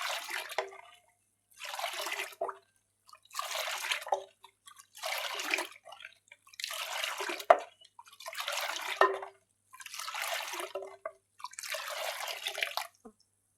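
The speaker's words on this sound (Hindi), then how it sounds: "1 से 2 मिनट के लिए अच्छे से इसको इस तरह फेंट लेंगे" Sattu sharbat being whisked by hand, heard as seven or eight evenly spaced bursts of sloshing, splashing liquid, each lasting about a second, close and alone against silent gaps between strokes.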